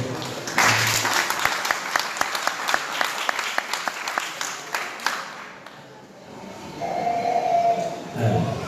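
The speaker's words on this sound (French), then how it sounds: "Je vous demande d'applaudir chaudement, s'il vous plaît" Warm audience applause at a church anniversary celebration, a dense burst of clapping lasting about five seconds that fades out, followed by murmuring and faint voices.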